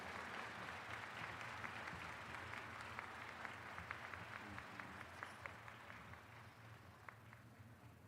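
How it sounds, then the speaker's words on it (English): A large crowd at the Averett University spring commencement, 2022, gives a steady round of applause following an honorary doctorate, a continuous wash of many hands for about eight seconds. "Let's give one more round of applause"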